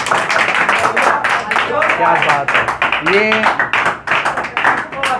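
Classroom audience of tenth-grade students clapping during a trigonometry lesson, a dense steady patter of many hands that runs throughout, with a voice speaking over it.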